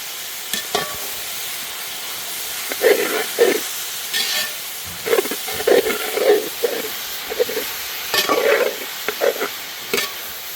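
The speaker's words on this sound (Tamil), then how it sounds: "வெங்காயம் தக்காளி நல்லா வதங்கிட்டு இருக்குண்ணா" Onions and tomatoes sauté in a pan for Salem-style mutton kulambu, sizzling and hissing steadily while a utensil scrapes and stirs in irregular bursts, close and clear without speech.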